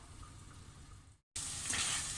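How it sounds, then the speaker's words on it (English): Chicken sizzles in butter and oil in a hot pan, a soft steady crackle that cuts out briefly and returns louder and brighter. "So let's get on and fry these off."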